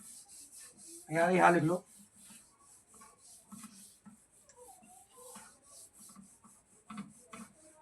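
Writing rubbed off a board during a maths lesson, one loud scratchy wiping stroke near the start, then quieter rubbing and marker sounds while someone speaks.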